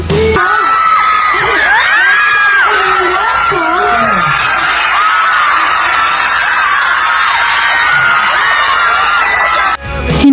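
University of the East students cheer, scream and shout during a Starpop campus tour, a loud, continuous crowd roar with high shrieks and whoops that stays up close until a sudden drop at the end.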